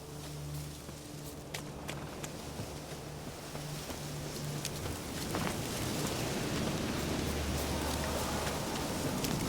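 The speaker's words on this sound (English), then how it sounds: "Looks like rain." Steady rain in the video game Witcher 3, a continuous hiss of falling drops that swells gradually louder and denser, with faint low tones and scattered ticks underneath.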